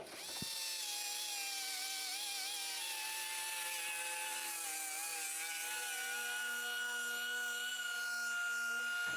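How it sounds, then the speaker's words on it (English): A power tool whines steadily while sanding and deburring a metal radiator shroud for a pedal car, a loud continuous tone with slight pitch wavers and no talking. "we can finish sanding around the radiator shroud"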